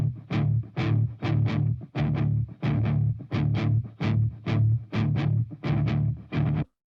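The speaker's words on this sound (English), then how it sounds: "we've got sort of a distorted guitar here and it sounds like this" Heavily distorted electric guitar chugs out a chord riff in evenly spaced, punchy bursts, loud and up close, stopping abruptly.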